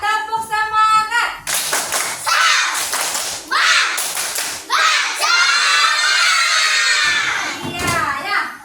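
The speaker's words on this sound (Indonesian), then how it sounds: "Kita tepuk semangat dulu ya." Children in an elementary classroom do a rhythmic 'tepuk semangat' clapping chant, bursts of patterned claps mixed with loud shouting and chanted voices, close and energetic over several seconds.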